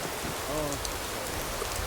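Steady rain falling in Skyrim with the Supreme Aegis Weathers mod, a continuous even hiss of drops on the ground with a faint voice briefly in the background.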